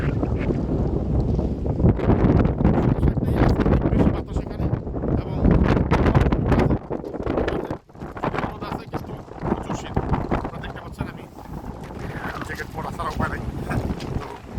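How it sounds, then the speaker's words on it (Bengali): Strong wind on a pebble-covered beach in France buffets the microphone in a loud, rough, rumbling roar that pulses with gusts, while people talk underneath. "বাতাস এত বেশি ক্যাপড়া হয়ে গেছে, বুঝতেই পারতেছেন বাতাসের মাত্রাটা এত বেশি"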